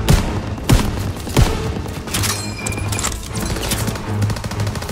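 Rapid automatic gunfire and sharp single shots crackle in the World War II shooter Call of Duty: WWII, loud and dense throughout with clattering battle noise behind.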